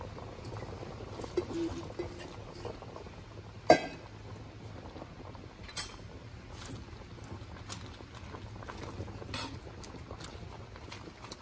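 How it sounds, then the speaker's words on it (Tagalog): Pot of fish and seafood tinola soup with pechay and onion leaves bubbling at a gentle boil, soft continuous simmering with occasional clinks and taps. "Ganihara ni siyang gabukal."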